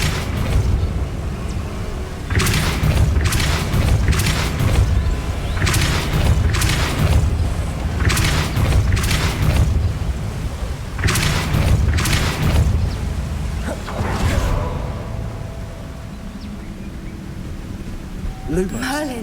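Depulso force spells blast repeatedly in the Hogwarts Legacy video game, a string of loud booming bursts coming in quick clusters over a rumbling game background.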